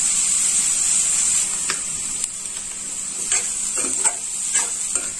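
Vegetables for South Indian rava upma stirred in a frying pan: a steady close sizzle with a spoon scraping and clicking against the pan at irregular intervals, no voices.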